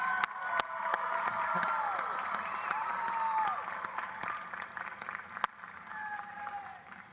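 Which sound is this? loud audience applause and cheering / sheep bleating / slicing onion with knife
loud audience applause and cheering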